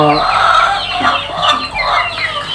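Chickens and ducks on a farm cluck and call continuously in a busy, crowded chorus, fairly close and loud, with overlapping clucks and squawks throughout.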